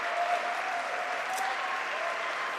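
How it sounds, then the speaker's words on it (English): Activists at a West Midlands mayoral election count applaud and cheer a Labour winner, a dense, continuous wash of clapping from a gathered crowd, fairly distant and steady for the whole stretch. "he's getting a good old cheer from all the people that are gathered"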